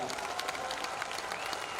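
An audience bursts into applause at a Next Generation Mashaal 2026 health event, with dense, rapid clapping from many hands that stays fairly even and moderately distant for the whole stretch.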